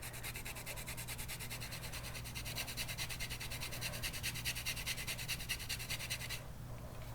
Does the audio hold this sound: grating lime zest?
yes